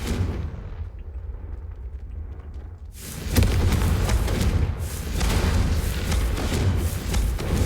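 Confringo explosive spell blasts in Hogwarts Legacy on PC, hard mode; a few seconds of low, quiet game ambience give way to a sudden loud burst of booming blasts that keeps rumbling to the end.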